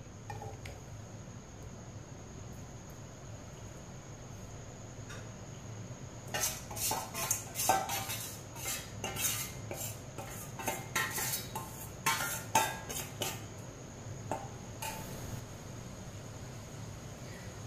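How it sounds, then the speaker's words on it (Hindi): Spiced potatoes stirred with a spoon in a pan for dahi aloo, giving a run of clinking, scraping metal taps after a quiet start, clustered in the middle and fading near the end, over a steady background hum. "अब आलूओं को 2-3 मिनट के लिए पका लेंगे, ऐसे ही चम्मच चलाते हुए।"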